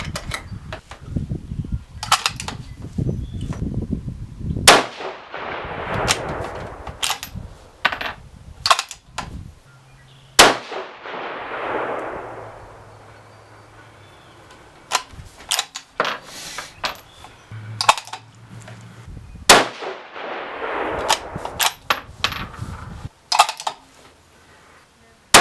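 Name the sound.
6GT rifle shots firing Berger 108 bullets at range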